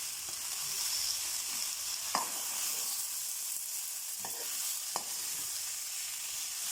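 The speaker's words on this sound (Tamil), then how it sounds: "ஆனால் இந்த சூட்டுலேயே இது இந்த தக்காளி, கொத்தமல்லி எல்லாம் வதங்கின்னு வருது" Tomatoes and coriander sauté in a hot pan on a switched-off stove, a steady soft sizzle with a few brief stirring scrapes, close and alone.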